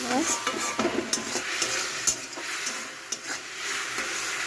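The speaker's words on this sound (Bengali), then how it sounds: "আর চিংড়ি মাছ ভাজা করছি।" Prawns fry in a pan while a utensil stirs and scrapes them, the sizzle steady and close with clinks and taps of metal against the pan.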